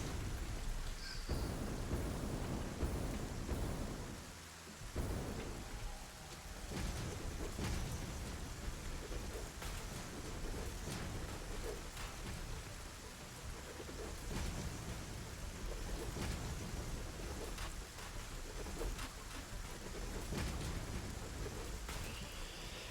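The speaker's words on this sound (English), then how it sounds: "I like the rain." Steady in-game rainfall in the factory-building game Satisfactory hisses as a dense, even wash of drops, with low rumbles like distant thunder underneath, continuous and free of speech.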